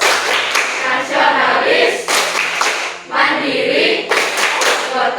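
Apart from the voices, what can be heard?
rhythmic class clapping chant, Tepuk PPK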